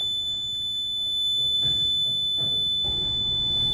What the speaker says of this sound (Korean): 부저가 울립니다.